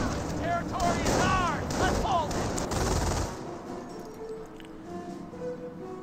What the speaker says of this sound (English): they get some great automatic rifle fire, or SMG fire with their grease guns onto the Schimwagen